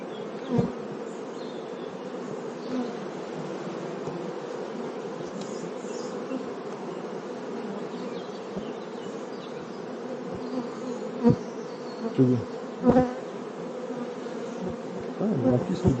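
Honeybees drone steadily around beehives, a continuous buzzing swarm heard close, with a few louder bees passing near now and then.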